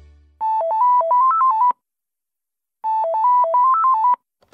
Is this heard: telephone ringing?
yes